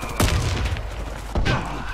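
Two heavy booming grenade blasts in the shooter game Warface, each a loud close thump with a rumbling tail, about a second apart.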